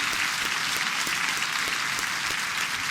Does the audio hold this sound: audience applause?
yes